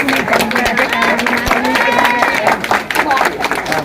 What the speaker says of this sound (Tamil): எல்லாரும் கைத்தட்டி மீண்டும் அவருக்கு வாழ்த்து தெரிவிப்போம்